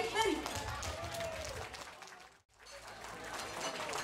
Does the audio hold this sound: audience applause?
yes